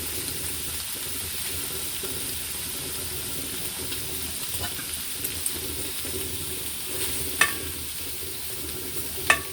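Chips for a full English breakfast fry in hot oil with a steady, close, broadband sizzling hiss and a couple of sharper pops near the end.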